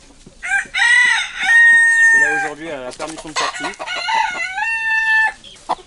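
Small chickens on a farm crow and cluck in loud, drawn-out calls that repeat close by, and a voice speaks briefly among them.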